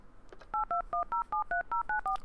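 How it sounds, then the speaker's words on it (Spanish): A mobile phone number dialed in the PC adventure game Runaway: A Road Adventure, heard as a steady run of about nine clear touch-tone beeps in quick, even rhythm, with no talking. "Espero que el número de teléfono que viene en la tarjeta que me dio sea efectivamente el de su móvil."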